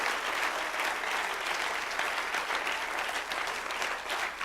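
A church congregation claps loudly in praise during a service, a thick continuous roar of applause from many hands that stays even for several seconds.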